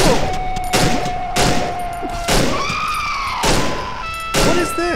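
Gunshots in the horror video game Cry of Fear: several loud, sharp blasts at roughly one-second intervals, each followed by ringing decay and high metallic tones, heard alone without talk.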